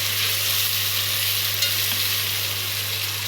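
Browned okra stirred and frying with meat in a pot, a steady close hiss and sizzle over a low constant hum, with no talk.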